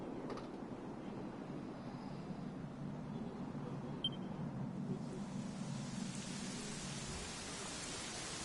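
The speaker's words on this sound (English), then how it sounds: "You know, it was raining like this the last time I ever saw her." Rain falls in the video game Dragon Quest XI, a steady soft hiss of rainfall heard alone and fairly faint, with one brief click partway through and the wash brightening toward the end.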